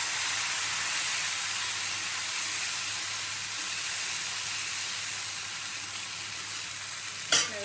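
Ragi attu, a finger millet pancake with vegetables, frying on an oiled pan: a loud, steady, close sizzle throughout, with one short sharp clink near the end.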